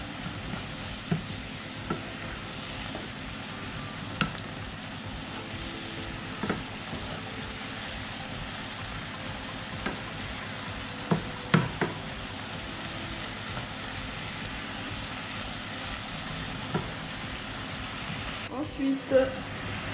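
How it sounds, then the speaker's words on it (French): Minced meat with garlic powder and basil is stirred in a frying pan, giving a low continuous sizzle with irregular spoon scrapes and taps. The sound stays fairly quiet throughout. "On mélange bien."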